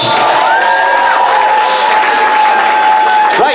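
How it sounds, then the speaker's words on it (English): A school variety show audience gives a loud, dense round of applause mixed with cheering, sustained throughout, while a voice rises briefly over the crowd. "Give him a big cheer."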